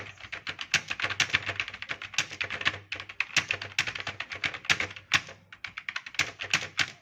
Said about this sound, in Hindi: लाइव टाइपिंग आप देख सकते हैं।